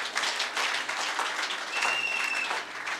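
Church congregation applauding in acclaim of Jesus: a dense, rolling wash of many hands clapping at moderate distance, steady for a few seconds with a faint whistle cutting through near the end.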